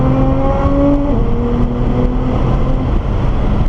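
Nissan GT-R accelerating out of a turn on a race track, a loud close engine note that climbs in pitch, drops at a shift and builds again, with no talk.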